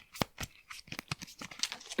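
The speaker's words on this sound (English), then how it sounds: "I'm going to shuffle up the cards here." A deck of cards is shuffled in quick, soft bursts of riffling and papery flicks, close but quiet, over about two seconds.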